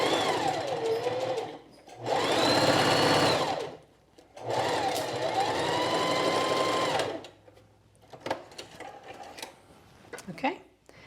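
A sewing machine stitches a quilted jacket's shoulder seam in two sustained, fast whirring runs, each a few seconds long, followed by lighter clicks and handling noises nearby.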